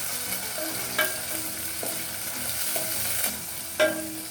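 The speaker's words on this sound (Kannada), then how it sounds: "ಒಣಮೆಣಸು, ಕರಿಬೇವಿನ ಎಲೆ ಇಷ್ಟು ಹಾಕ್ಕೊಂಡು ಸ್ವಲ್ಪ ಎಣ್ಣೆಯಲ್ಲಿ ಚೆನ್ನಾಗಿ ಫ್ರೈ ಮಾಡಬೇಕು" Dried red chillies and curry leaves fry in a little oil for rasam, a steady close sizzle with soft stirring scrapes and a few sharper spatters through it.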